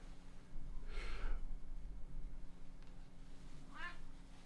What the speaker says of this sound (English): Oh, we got another cat. We got, ooh, a kitten.